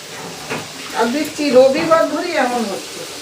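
Onions frying with salt in a pan give off a soft, steady sizzle beneath a person talking nearby.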